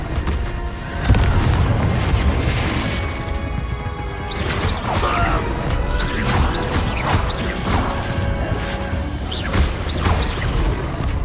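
Blasting spell explosions in the Hogwarts Legacy video game: a dense, continuous barrage of loud booms, crashes and whooshes layered over one another with no pauses.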